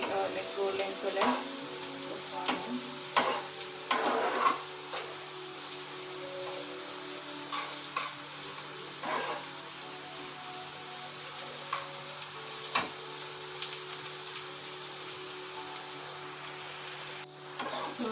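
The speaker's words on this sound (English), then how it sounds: "fry until like golden color." Soya chunks fry in a pan with a steady, close sizzle and crackle, and occasional stirring clatters cut through it. The sizzle holds constant the whole time, with no talking.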